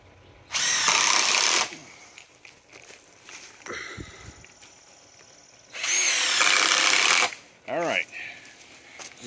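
A power drill bursts twice into deck lumber during a deck build, each run loud and close for about a second, with handling clatter and someone talking between them.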